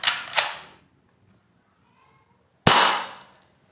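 Toy pistol mechanism from a toy gun collection, heard as sharp, close snapping clicks: a quick double click, a pause, then one loud ringing snap.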